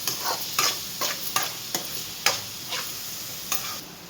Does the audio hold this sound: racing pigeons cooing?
no